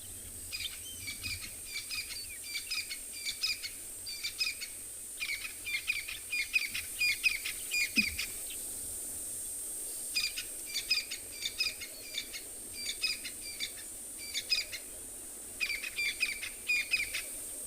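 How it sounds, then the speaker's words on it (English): Crested francolins calling at sunrise on a safari, bursts of rhythmic rattling cries repeated in separate phrases, fairly distant over a quiet background hum, seemingly two birds answering each other. "These crested francolin, they're amazing on making sound"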